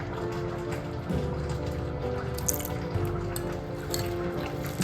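A dash of vinegar poured onto prawns already dressed with fresh lemon juice and salt, giving soft drips and trickles of liquid that are quiet and close, with no one speaking.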